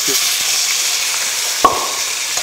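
Beef sizzles steadily in a pan in a resonant kitchen, a continuous frying hiss with a few faint clinks and knocks.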